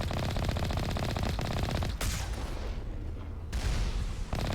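Rapid automatic cannon fire from the Mako vehicle in the video game Mass Effect Legendary Edition, a loud continuous burst of shots that stops abruptly near the middle before firing resumes at the end.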